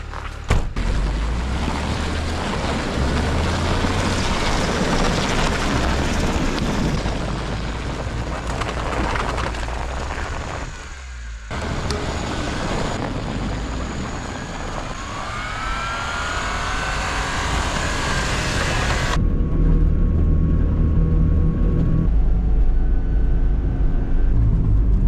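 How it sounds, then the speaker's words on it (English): A warmed-up vehicle engine revs and pulls away through Arctic Alaskan snow. It is loud and close, a broad continuous roar that dips briefly midway and swells again toward the end. "Engine's warmed up. Let's see if we can get out of here."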